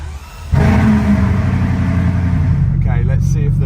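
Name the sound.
Bugatti Chiron engine revving as it is driven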